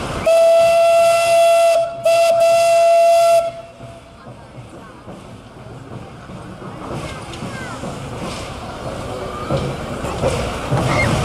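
Steam locomotive whistle blown loud in two long blasts at a turntable parade, with a brief break between them, then fading into crowd noise and a hiss of steam.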